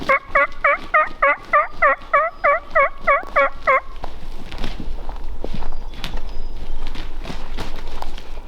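A wild tom turkey gobbles during a youth turkey hunt, a run of about eleven loud, rhythmic gobbling calls close by, followed by rustling footsteps and movement through brush.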